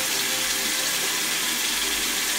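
Tap water runs steadily into a sink during face washing, a continuous loud hiss and splash without pauses or voices.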